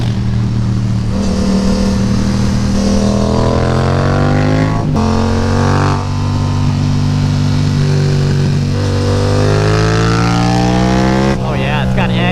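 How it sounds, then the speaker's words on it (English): A Yamaha FZ-07 motorcycle with a flashed ECU roars loudly and close, its exhaust note echoing off surrounding walls as it revs and climbs through repeated rising pulls with gear changes. "Exhaust note bouncing off these echoing walls."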